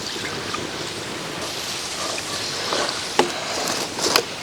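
Steady rushing water pours into cooking masala for a bitter gourd dish in a continuous broad wash, with a couple of brief splashes near the end, no voices.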